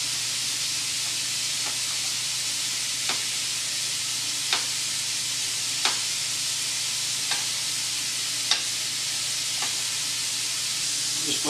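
Onions fry in a pan of bacon fat while a carbonara is made, giving a steady, loud sizzle and hiss with occasional soft pops and crackles throughout.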